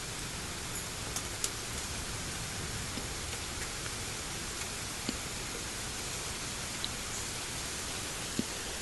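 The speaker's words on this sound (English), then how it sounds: "But stay in here and enjoy this rain." Steady, faint rain falling, a soft continuous hiss with occasional tiny drip clicks, heard alone without voices.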